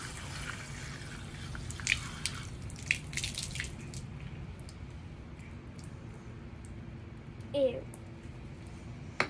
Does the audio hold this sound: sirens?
no